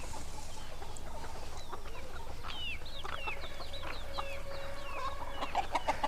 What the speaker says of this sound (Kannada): ಇದೇ ನಮ್ಮ ನಾಟಿ ಕೋಳಿ ಸಾಮ್ರಾಜ್ಯ